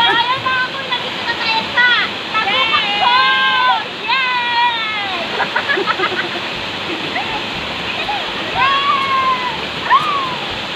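Tagupak Falls pours in a steady broadband rush, while excited voices call and shout over the constant roar of the water.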